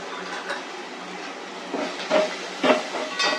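Fenugreek leaves sauté in a pan with a steady close hiss of sizzling, punctuated by several soft scraping stirs.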